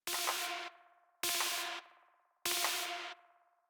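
Machinedrum hits through a very, very short delay with gated reverb, giving a spring-reverb-like smear; three bright noisy bursts, evenly spaced, each decaying quickly into a short ringing tail.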